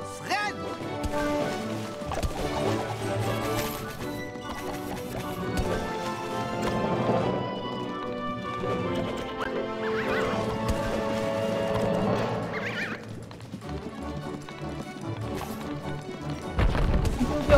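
Horses gallop in the Tangled (Rapunzel) video game, with steady clip-clop hoofbeats and occasional whinnies running continuously under layered game music, while voices talk over the action.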